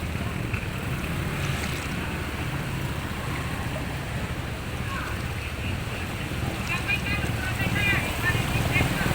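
Wavy floodwater sloshing around someone wading slowly through a high-tide flood in Macabebe, Pampanga, with a steady, wind-buffeted rush of water that continues unbroken throughout.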